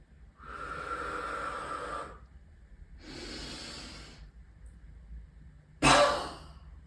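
Deep breathing during a side stretching exercise: two long, audible breaths in slow rhythm, close to the mic, followed by a sharp short exhale or snort at the end.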